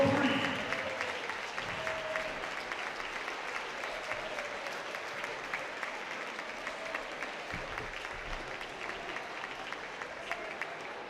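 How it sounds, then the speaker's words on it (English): A gym crowd gives sustained applause for a girls' high school basketball team, a steady wash of clapping that starts loud and settles slightly, with a voice faintly over it at the beginning. "you know we're free to give this team a round of applause"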